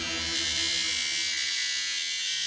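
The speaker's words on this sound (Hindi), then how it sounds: "ये आपका एसी इतना आवाज करता है?" A noisy air conditioner in an office hums steadily with a dense, buzzing drone that holds evenly throughout, fairly loud and close, with no voices over it.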